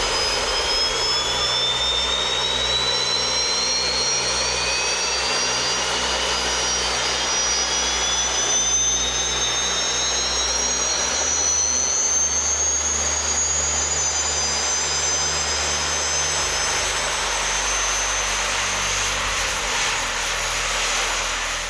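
Small jet engines of a wearable jet-powered flight rig roar continuously at their lowest setting, a loud steady whine with rising high tones over a broad rushing hiss.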